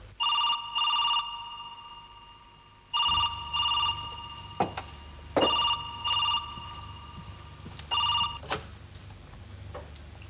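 An old-style telephone bell rings in repeated double bursts, several cycles with brief pauses between, loud and close.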